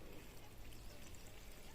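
Tap water runs in a thin, steady stream, faint and brief, heard alone without voices.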